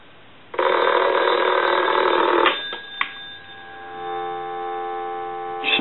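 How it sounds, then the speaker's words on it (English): A steady telephone dial tone from a Crosley Retro 302 desk telephone holds alone, broken by a couple of brief clicks before settling into a continuous hum. "Some dial tone."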